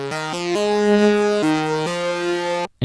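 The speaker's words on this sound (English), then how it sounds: "Anyways, cool wavy lead pattern" Wavy synth lead pattern in a 2000s-style beat, a bright harmonic tone stepping between a few sustained pitches over nearly three seconds, loud and alone before cutting off abruptly at the end.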